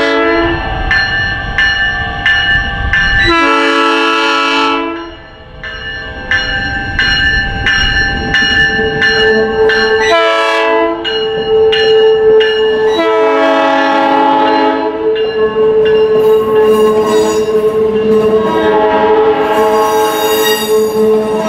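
A South Shore bi-level commuter train rolls through a city street, its horn blaring in repeated long blasts over squealing wheels, rumbling cars and a ringing bell, loud and near.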